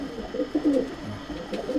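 A male Kaldama pigeon coos in low, rolling bursts close by, the soft throaty notes repeating unevenly over a faint background hum, with no talking.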